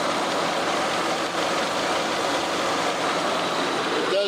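A 2002 Toyota 4Runner with a misfire and a suspected head gasket problem idles roughly, its engine drone steady, loud and close throughout, with a faint uneven bounce in the running.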